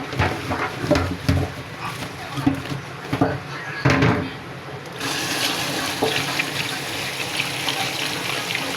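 Taro stems are rinsed under running water, first in uneven splashing bursts as they are handled, then a steady gushing flow from the tap, all close by.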